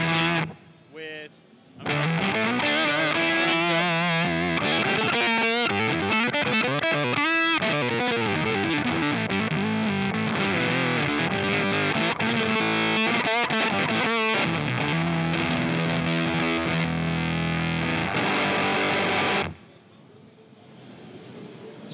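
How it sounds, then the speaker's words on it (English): Redbeard Effects Honey Badger fuzz octave pedal on electric guitar: loud, thick distorted riffs with octave-up overtones and sustained chords, playing continuously for about twenty seconds before stopping into near silence. "You can get any sort of fuzz octave sound you want."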